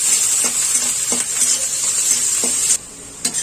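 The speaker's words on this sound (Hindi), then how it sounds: "इसे अच्छी तरह से भून लेते हैं" Green chilli and chopped onion fry in a pan with a bright, steady sizzle, broken by a few soft stirring scrapes, before the hiss drops off abruptly near the end.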